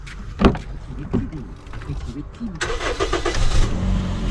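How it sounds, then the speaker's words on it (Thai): Engine of a 2008 Toyota Vios automatic cranking and starting, with a few sharp clunks before the engine catches and settles into a running note, with someone talking close by. "เดี๋ยวเราฟังเสียงเครื่องยนต์กันครับ"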